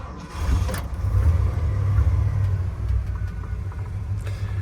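A 1979 Ford Bronco idles just after a cold start. Its low, steady rumble swells slightly and then holds even, heard up close with no voices.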